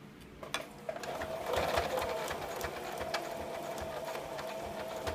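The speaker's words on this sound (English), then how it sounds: "And on the seam allowance, I'm going to sew down my elastic." Sewing machine stitching elastic down onto the seam allowance of a pocket cloth diaper, a steady close mechanical whir running throughout with a few clicks near the start; no speech.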